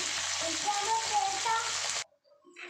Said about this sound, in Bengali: আমি পনিরগুলো ভেজে তুলে নিই